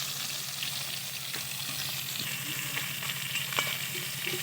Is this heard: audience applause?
no